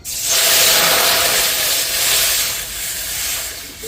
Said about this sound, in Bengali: পিঠেগুলো ভাপে বসাবো তার জন্য আমি কড়াইয়ে জল দিয়ে দিচ্ছি